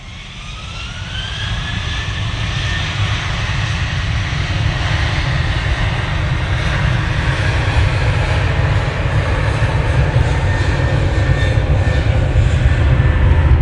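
An airliner departing Manchester Airport for Porto on a gusty day produces a loud, continuous engine roar that builds and holds steady, with whining tones rising over the rumble.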